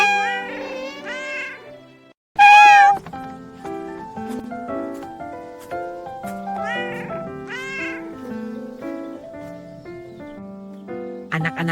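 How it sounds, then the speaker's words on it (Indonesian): Several small kittens mew repeatedly in high, wavering cries, close and loud, overlapping one another with a short gap and a sharp louder burst early on, no talk. "Anak-anak kucing ini sepertinya anak si Angah"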